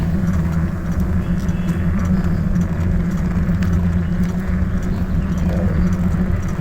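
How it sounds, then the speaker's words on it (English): A Maruti van passes on the road, heard from a moving electric bicycle as a loud steady engine and road rumble that fills the whole stretch. "There comes Maruti van"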